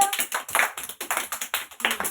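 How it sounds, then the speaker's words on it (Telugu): A group of young anganwadi children clapping together in a quick, fairly steady rhythm, loud and close, with no talking. "క్లాప్స్ కొట్టండి అందరూ"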